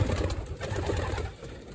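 Soft, low pigeon cooing murmurs steadily through the clip over a faint background hum, with no voices.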